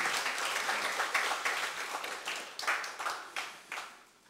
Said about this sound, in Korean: 우리 다시 한번 우리 성가대 박수로 환영하겠습니다.